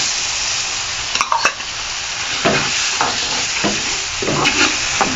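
Mashed chickpeas with spices and shredded chicken being stirred and fried in a pan for Lahori chikar cholay, with steady sizzling broken by intermittent scraping stirs, close and fairly loud, no talking.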